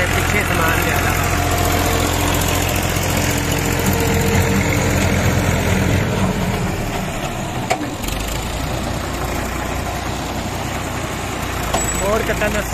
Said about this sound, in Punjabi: ਟਰੈਕਟਰ ਸ਼ੋਰ ਤਾਂ ਵੀ ਜ਼ਿਆਦਾ ਇਹਦਾ ਛੋਟਾ ਟਰੈਕਟਰ ਹੈ